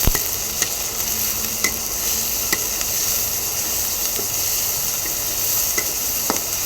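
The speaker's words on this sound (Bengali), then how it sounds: "এখন দিয়ে দেব অল্প একটু হলুদ দিয়ে আমি এগুলো এখন ভালো করে ভেজে নেব।" Chopped peeled shrimp with a little turmeric sizzle steadily in a hot pan, a continuous close frying hiss with occasional soft stirring clicks and no talking.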